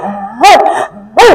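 A man vocally imitates an older dog's bark: two quick, gruff barks, loud and near, each rising and falling, with a low hum of voice between them.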